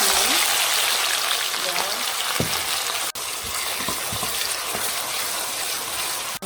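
Sliced onions and chili fry in a little palm oil for a stir-fry, a loud, steady close sizzle with scattered pops, and a voice speaks briefly over it.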